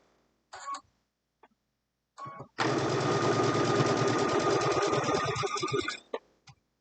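A sewing machine stitches a log cabin quilt block in one continuous, close, rapid run of mechanical chatter lasting about three seconds, with short handling clicks and taps before and after it.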